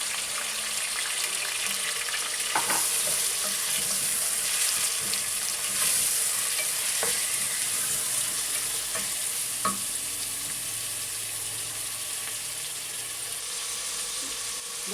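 Finely chopped ginger and garlic fry in a pan for a beef salan, giving a steady, loud sizzle with a few soft clinks of utensils near the start and middle and no voices.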